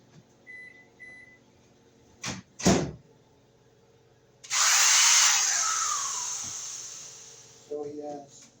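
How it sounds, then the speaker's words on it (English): A power drill plugged into a newly wired workshop outlet runs in one loud burst of about three seconds. Its high whine winds down after a few clunks and beeps, and a short rattle follows. "I'll use the drill."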